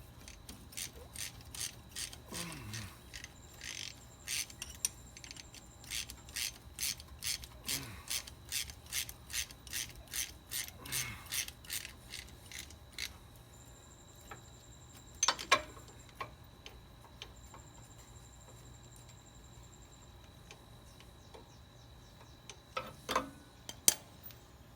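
A ratchet loosens a sway bar link on a Ford F-150, clicking in fast, close bursts of rapid pawl ticks separated by short pauses and a few louder metallic knocks.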